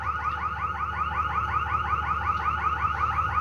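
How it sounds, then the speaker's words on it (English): An alarm sounds steadily somewhere in an industrial area, a loud warbling electronic tone cycling in a fast, regular pulse with no speech over it. "Yeah, that's one of the alarms going off there."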